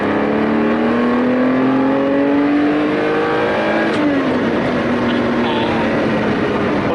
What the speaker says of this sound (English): It's just a glorious flat 12 noise that you only get in a Testarossa.